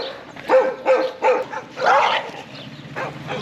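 Dogs in Bolivia barking in a series of about six close, loud barks and yips spaced across a few seconds, with some whimpering between them.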